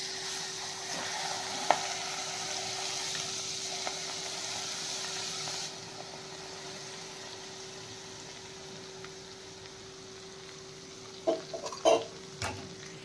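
Hot oil poured over garlic and spices for pickle makes a steady close sizzle for about six seconds, then a quieter frying hiss, with a few clinks of utensils near the end.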